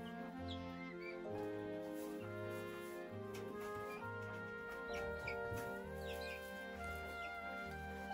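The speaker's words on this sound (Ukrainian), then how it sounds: "з курчатками індичка." A turkey hen with her young poults makes soft, intermittent clucks and peeps on a farm, fairly faint against a steady background hum and tonal noise.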